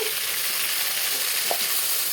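Green chilli and ginger paste sizzling in a pan with jackfruit and tomatoes, a loud, dense, unbroken hiss up close with one brief utensil clink midway and no talking.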